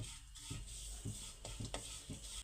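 Grated coconut roasts briefly in a pan. Quiet, rhythmic scraping and rustling strokes repeat over a low sizzle, and the whole sound is faint and close.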